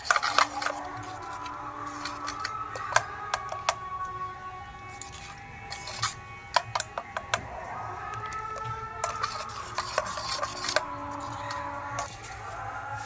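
Mustard and poppy seed paste being mixed with salt, turmeric and mustard oil, with close, repeated scraping and sharp clinks of a utensil against the container, coming in uneven bursts with no talking.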